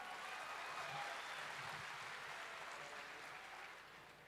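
Faint, thin applause from a school vocational-event audience in West Java, a scattered patter of clapping that holds steady for a few seconds and then fades slightly toward the end.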